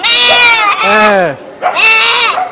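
Goat bleating loudly at close range in Old Dhaka before Eid al-Adha, three long wavering calls in a row with short breaks between them.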